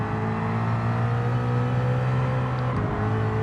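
A Ford race car engine in a racing video game holds a loud, steady droning hum with a strong low harmonic tone, briefly dipping near the end as if shifting or lifting off.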